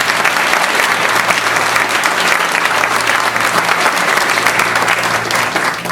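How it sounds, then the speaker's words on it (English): Steady, loud audience applause for candidates at a 2012 candidates forum in Hamilton, Alabama, dense clapping sustained evenly for about six seconds with a low hum underneath. "Let's give all the candidates a big round of applause."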